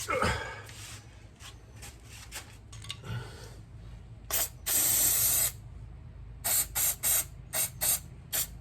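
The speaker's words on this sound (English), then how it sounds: "let me spray some cleaner on there so we can see a little bit better." Several short bursts from an aerosol can of parts cleaner hiss close by onto a Yamaha motorcycle's clutch slave cylinder. Between them come quiet mechanical clicks and a low background hum.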